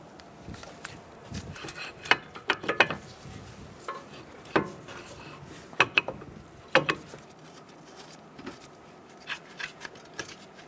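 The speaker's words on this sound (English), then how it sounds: "I'm going to tighten down those bolts." A socket ratchet with a 15 millimeter socket tightens brake caliper bolts on a 2000-2007 Ford Taurus, clicking in irregular bursts of quick ratcheting strokes, close up, with pauses between turns and no talking.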